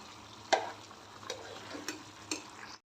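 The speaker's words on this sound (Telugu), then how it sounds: "ఇదిగోండి నేనైతే 2 స్పూన్స్ యాడ్ చేసుకొని ఒకసారి బాగా చికెన్ని కలుపుకోండి." Chicken being stirred in a frying pan with ginger garlic paste, giving a faint sizzle with a few distinct scraping clinks of the spoon spaced about a second apart.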